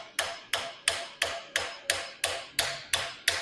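A hammer strikes a rivet header tool on 1/4 inch round bar in a steady series of about ten sharp metallic blows, evenly spaced roughly a third of a second apart, close and loud with brief ringing decay and no talking.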